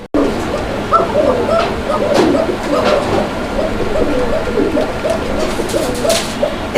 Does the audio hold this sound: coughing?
no